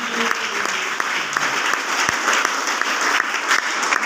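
An audience at a sales closing event for a safe-shop business breaks into loud, sustained applause, dense clapping filling the whole stretch.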